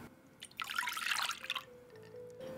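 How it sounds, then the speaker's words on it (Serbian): Lukewarm milk, about 280 ml, poured into a small mixing bowl gives a soft liquid splash and trickle lasting around a second, close and fairly quiet, with no talking. "Sipat ću u vanglicu 280 ml mlakog mleka."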